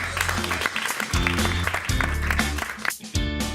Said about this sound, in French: j'aimerais bien que vous applaudissiez David ici présent.